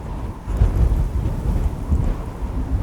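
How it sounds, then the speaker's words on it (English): A rumbling gust of wind sweeps through a horror story scene, a low, steady roar with swelling surges and no voices. "Just then, a gust of wind blew over them."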